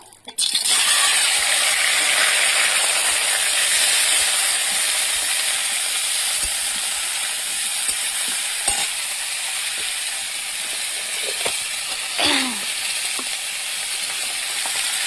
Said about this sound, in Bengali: তেলটা গরম হয়ে গেছে, মাছটা এবার দিয়ে দেবো।